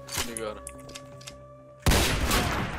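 Gunfire in the Roblox shooter Counter Blox: a brief shot near the start, then a loud, dense burst of game gunfire from about two seconds on, with talk and music-like tones underneath.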